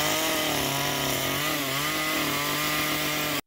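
A chainsaw carves a pine log at a state fair booth, its engine droning loud and steady at close range with a sustained rough, buzzing whine that barely wavers before cutting off abruptly at the end.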